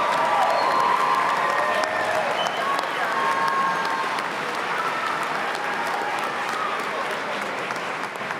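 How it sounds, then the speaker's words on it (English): A large crowd at a college commencement applauds the new graduates, dense sustained clapping that fills the room at full level, with a few cheers mixed in. "Let's give our newly minted graduates one more round of applause."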